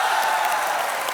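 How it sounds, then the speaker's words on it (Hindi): A brief burst of loud studio audience applause on a comedy talk show, dense clapping throughout that welcomes a music-industry guest, with no voices over it. "जोरदार तालियों से स्वागत कीजिए हमारा।"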